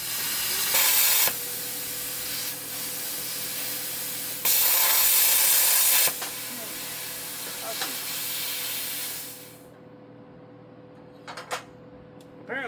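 Plasma cutter cutting a truck frame during frame shortening, with loud close bursts of roaring hiss that start and stop over a steady electrical hum, then quiet near the end with a few faint clanks.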